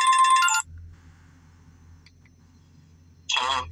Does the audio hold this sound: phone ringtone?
yes